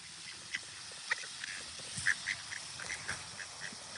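Ducks quack in short, scattered calls, some louder than others, over a quiet outdoor background with no voices.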